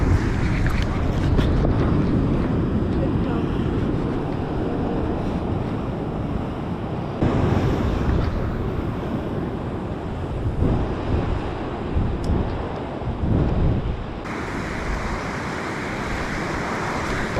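Big ocean waves crash and splash around a small fishing boat at sea, a continuous loud roar of water with wind buffeting the microphone, surging in bursts throughout.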